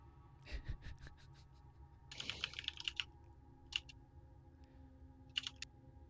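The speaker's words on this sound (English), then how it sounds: "I can hear you typing." Quiet computer keyboard typing in uneven bursts of rapid key clicks, with short pauses between, close and soft with no talking.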